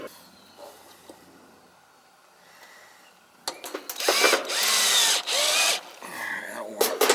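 Near silence with faint handling noises at first, then a power drill whirs loudly in several bursts driving a screw during work on a Trane air conditioner, with brief pauses and clicks between runs.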